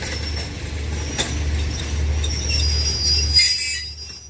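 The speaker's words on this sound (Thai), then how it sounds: "เสียงเบรกครับ" High-pitched squeal of train brakes over a deep low rumble of rolling railcars, fading out as a long-distance passenger train slows into Photharam station, Thailand.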